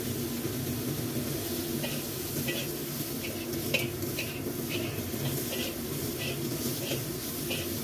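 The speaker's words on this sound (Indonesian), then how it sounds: "tambahkan terong yang sudah kita cuci bersih ya teman-teman, yang sudah dimarinasi dengan garam dan dicuci lagi, diperas ya teman-teman" Salted, rinsed and squeezed eggplant is stir-fried in a pan, giving a steady soft sizzle with scraping and stirring strokes throughout, fairly quiet and without talk.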